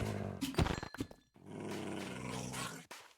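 A dog growls in a video game, a low rumbling snarl with sharp bursts early on, followed by a sustained noisy growl that holds steady before cutting off near the end.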